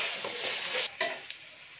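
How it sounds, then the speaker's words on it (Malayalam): Spice powder sizzles loudly in hot oil in a pan for Kerala chicken pirattu, a steady frying hiss for nearly a second before it drops away, leaving quieter stirring scrapes. "നമ്മൾ പൊടി പ്രത്യേകം വറുക്കുന്നതിന് പകരം ഇങ്ങനെയിട്ട് മൂപ്പിച്ചെടുക്കുന്നത്."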